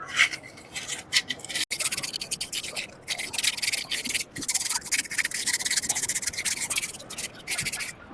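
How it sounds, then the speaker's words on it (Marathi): Polish paper rubs against an auto rickshaw brake cylinder in quick, close, scratchy strokes that continue almost without a break, with a few short pauses between them. "सिलेंडर पण साफ करून घ्यायचं पॉलिश पेपरने"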